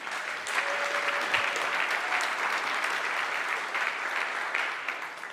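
Conference audience at DevOpsDays KC 2024 applauds for the volunteers, a steady, full room of clapping sustained evenly for several seconds without pause, with a faint tone briefly audible early on.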